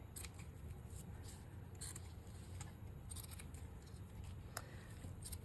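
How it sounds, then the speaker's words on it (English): Scissors snip through a piece of craft netting in a short series of quiet, crisp cuts at close range over a low background hum, with no talking. "let's just cut a nice big piece off."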